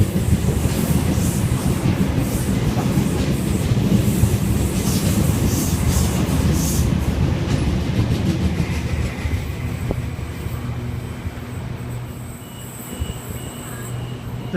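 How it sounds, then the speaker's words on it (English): A Sydney Trains Penrith service running past platform 2 at Lidcombe station, a steady loud rumble and rattle of wheels that builds, holds and then slowly eases as the train goes by. "we have a Penrith service about to pass platform number 2"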